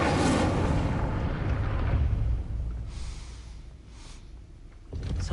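A fire spell cast in the Hogwarts Legacy video game, a loud roaring whoosh of flame that bursts out at once and then fades into crackling and hissing, with a brief flare near the end.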